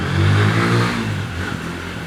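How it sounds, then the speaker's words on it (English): A motorcycle revs near a home: a loud, close engine that swells and then eases back, with a rough, throaty drone throughout. "This young man playing on his motorcycle near my home is safe."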